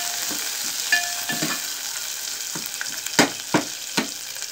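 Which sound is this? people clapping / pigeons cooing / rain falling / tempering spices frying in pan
tempering spices frying in pan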